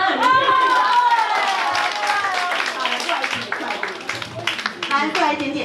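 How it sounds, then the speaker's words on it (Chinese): Audience clapping at a church Christmas party, scattered hand claps mixing with loud, excited voices and children's chatter in a lively hall. "给他一个掌声。"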